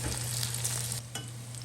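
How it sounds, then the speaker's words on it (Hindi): Lentil dumplings (dhal ke farre) frying in a pan give a steady, close sizzle with a low hum beneath, dipping briefly as they are turned and then resuming. "मैं थोड़ा सा इनको एक दो बार और उलट पलट करके फ्राई करके दिखाती हूँ आपको"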